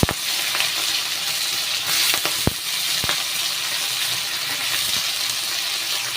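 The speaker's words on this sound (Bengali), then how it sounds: "এবার এই তেলের মধ্যে শুকনো লঙ্কা, তেজপাতা, একটু সামান্য গোটা জিরের ফোড়ন দিয়ে দেবো" Chopped onion frying in hot oil with dry red chili, bay leaf and whole cumin, a steady close sizzle broken by a few sharp clicks and pops from the pan, with no talking.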